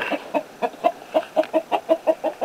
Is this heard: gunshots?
no